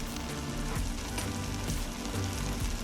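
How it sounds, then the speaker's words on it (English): Onions browning in a pan give a steady, close, loud sizzle with crackling pops that runs throughout, with no voices. "We're going to brown these onions."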